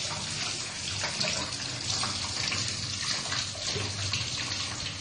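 Running tap water while a hand is washed: a steady, close gush of water with no pauses, moderately loud and alone, with no voices.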